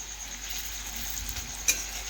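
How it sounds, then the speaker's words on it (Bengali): Gandhal leaf fritters fry in hot oil over low heat, a steady close sizzle with one sharp clink as the fritters are flipped over, no voices. "উল্টে নিয়ে আরেক পাশ ভাজার জন্য"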